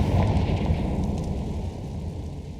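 Confringo fire spell blast in the game Hogwarts Legacy, a loud rumbling fiery burst that roars and slowly fades over a couple of seconds.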